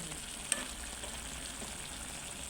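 Northern Thai chicken stir-fry, seasoned with chili paste, sizzles hard in a pan: a steady, close, dense crackle with one sharp clack early on and no voices.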